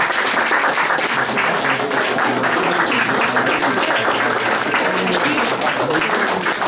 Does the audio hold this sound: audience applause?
yes